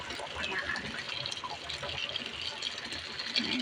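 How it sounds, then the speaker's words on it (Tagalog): Boiled water poured into a pot of chicken kabsa, a steady close watery gush running the whole time with no talk over it. "Lagyan ko na ng tubig guys na pinakuluan."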